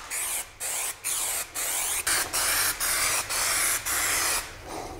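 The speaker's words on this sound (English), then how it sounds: "I'm gonna spray some on the box and on the carpet." A can of spray adhesive hisses in a run of about nine short bursts of roughly half a second each, sprayed onto a wooden subwoofer box and its carpet covering. The bursts are loud and close, with brief pauses between them and no voices.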